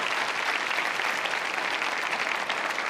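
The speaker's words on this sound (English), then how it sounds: "You can clap for them." A comedy club audience breaks into applause, a dense, lively wash of many hands clapping at once, filling a short stretch with no speech.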